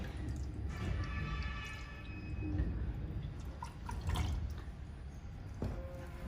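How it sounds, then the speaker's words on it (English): Cooling water running through the water chiller of a handheld fiber laser welding machine, a steady trickling and dripping flow with occasional small splashes, moderately close and continuous, with no talking. "so it means the water is flowing."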